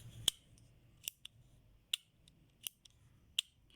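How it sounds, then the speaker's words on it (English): A pen making five or six sharp, close clicks spread unevenly across a few seconds, each crisp and brief against a quiet background. "it's a pen and the sound like this."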